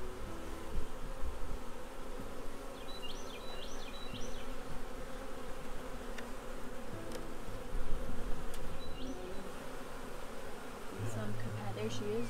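A big, healthy honeybee swarm around a hive during a swarm capture: a steady, dense buzzing drone of many bees, close and continuous throughout, with a few louder bees passing near and faint outdoor background.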